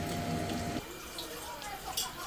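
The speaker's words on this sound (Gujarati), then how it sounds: "તો એમાં પાણી નાખી દઉં જેટલું જોઈએ એટલું." Water poured into a bowl of bhajiya batter mix with chili and fenugreek in a home kitchen, a steady splashing pour lasting under a second that then gives way to quieter stirring and faint kitchen noise.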